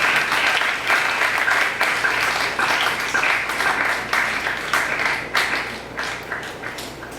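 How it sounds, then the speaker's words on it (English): A lecture hall audience gives a warm round of applause welcoming Professor Marc H. Ellis, loud continuous clapping from many hands that gradually thins toward the end. "please help me welcome with a big round of applause"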